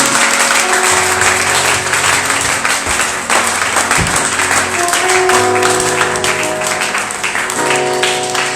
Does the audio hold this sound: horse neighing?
no